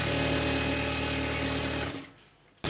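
A sewing machine runs a steady, loud, continuous stitch along a pajama leg seam for about two seconds, then stops, leaving quiet room tone before a brief final noise.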